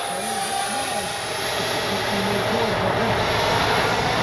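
An X-Fly F-15 40mm RC jet flies overhead with a continuous high electric ducted-fan whine, pitch wavering up and down as it passes through maneuvers at moderate distance, steady throughout.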